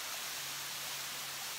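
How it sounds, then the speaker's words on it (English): A waterfall pouring steadily, a dense unbroken hiss of falling water heard up close and loud, with no speech over it. "So if we look at this waterfall"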